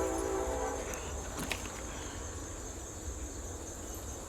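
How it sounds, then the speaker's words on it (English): A Norfolk Southern southbound model train rolls past on a layout, a low steady rumble with a faint high whine and a few light clicks, fairly quiet throughout. "Now we've got Norfolk Southern southbound coming by."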